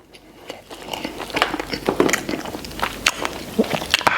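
Spicy braised ostrich leg meat being chewed close up: wet, fibrous chewing and smacking bites repeating irregularly for several seconds, moderately loud, with no talking.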